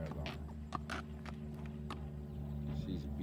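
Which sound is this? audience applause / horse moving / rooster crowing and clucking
horse moving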